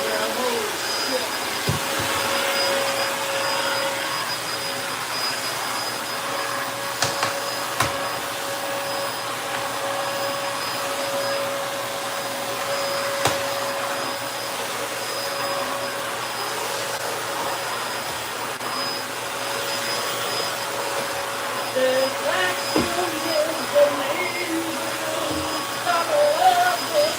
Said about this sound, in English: That's vacuum, literally.